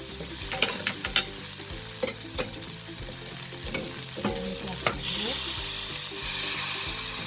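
Ground meat sizzles steadily in a frying pan while a utensil clacks and scrapes through it. Near the end a splash of water hits the hot pan and the sizzle swells into a louder, denser hiss. No one talks.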